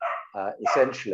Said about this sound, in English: excuse the noise of the dog barking in the background